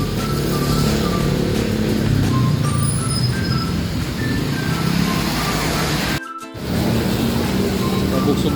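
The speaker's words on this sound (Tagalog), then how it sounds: "Maraming dumadaan na sasakyan." Busy road traffic in rainy Manila, with cars and trucks passing as a steady, loud roar of engines and tire hiss on wet pavement, a brief dip near the end, and faint beeps overhead.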